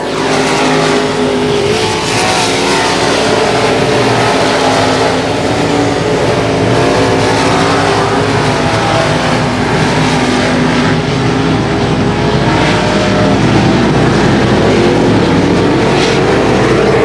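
Race cars roaring around a dirt track on the final lap at a night racing event, a loud continuous wall of engine noise with rising and falling revs, dense and unbroken throughout.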